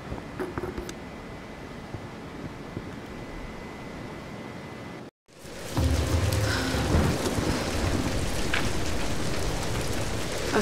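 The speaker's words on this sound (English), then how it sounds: "We're getting closer to the storm." Thunderstorm with steady rain in the video game Tomb Raider Definitive Edition, a dense wash of rainfall with low rumbling that cuts out briefly, then returns louder and fuller with no voices.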